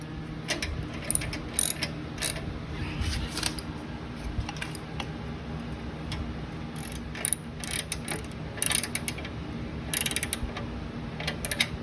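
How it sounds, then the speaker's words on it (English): Ratchet tightening the exhaust clamps on a 2016 Indian Scout motorcycle fitted with a Vance & Hines exhaust: rapid, close clicking bursts, repeated in short runs with brief pauses between strokes. "Now we can come back over here and tighten up the clamps"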